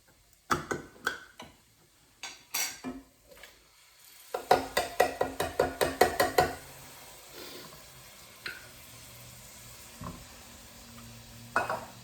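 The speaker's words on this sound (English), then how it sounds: "go ahead and stir that around, all the acid from those tomatoes" A spoon stirs canned fire-roasted tomatoes in a pan for a black-eyed pea curry, with a quick run of close rhythmic knocks and scrapes over a faint sizzle, then scattered softer clinks.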